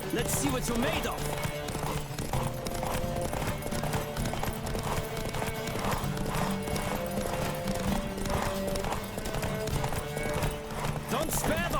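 Rapid, steady clip-clop of galloping hooves in The Witcher 3: Wild Hunt runs throughout over a busy backdrop of music and game sounds, with a few snorts and whinnies.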